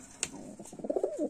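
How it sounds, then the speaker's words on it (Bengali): A male Lakkha pigeon gives a close, low rolling coo lasting about a second, after a brief wing or rustle sound. "দেখেন নরের ডাকটা"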